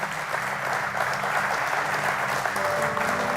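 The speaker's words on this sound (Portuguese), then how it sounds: "Você pode aplaudir o Senhor?" Church congregation at a Portuguese-language worship service applauds together, a thick, continuous wash of clapping that stays even and full throughout.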